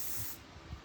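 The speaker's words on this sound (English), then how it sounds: "Now I'm going to go ahead and spray another layer." A short hissing burst of aerosol spray that cuts off abruptly partway through, leaving a quieter low rumble behind.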